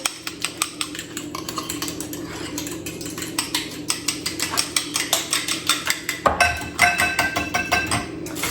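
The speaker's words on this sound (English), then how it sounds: "Let me get a fork. There we go. And I just kindly whisk that around." A fork whisks a honey mustard mixture in a bowl, rattling against the sides in a fast, even run of close, bright clinks that grow denser and louder toward the end, with no talk.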